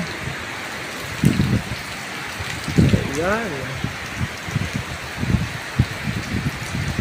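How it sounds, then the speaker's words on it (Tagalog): Heavy typhoon rain and wind from Typhoon Kristine pour down steadily outside a flooded parking garage, a dense constant hiss, while someone speaks briefly over it. "Kita niyo po yung lakas ng hangin saka yung lakas ng ulan"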